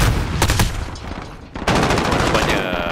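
Rapid bursts of video game gunfire from a search-and-destroy match at a port harbour map, with sharp shot transients early, a brief lull, then a dense sustained volley close and loud, mixed with faint background speech.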